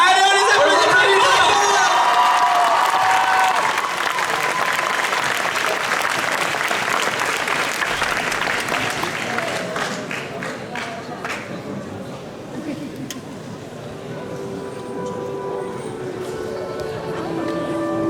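Loud audience applause with some cheering fills a convention show hall as a dance group takes the stage, starting dense and tapering to a steadier, lighter clapping toward the end.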